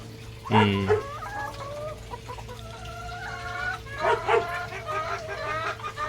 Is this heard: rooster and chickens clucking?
yes